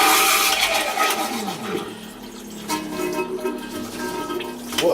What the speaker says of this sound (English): what a powerful flush.